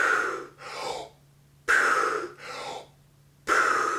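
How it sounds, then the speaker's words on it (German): Freediver surfacing after a breath-hold dive and doing hook breathing: three sharp, loud rapid inhalations, each followed by a held, pressurised breath, spaced evenly about every two seconds, close to the listener. "Sie machen etwas, das nennt sich Hook Breathing, aktives Einatmen."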